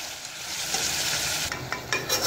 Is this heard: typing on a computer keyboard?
no